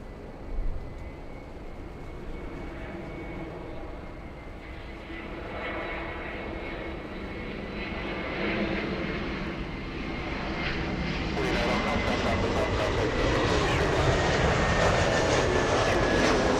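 Delta jet airliner at LAX, engine roar building steadily and swelling louder toward the end as it readies for a south side takeoff, a continuous broad rumble with distant airport ambience.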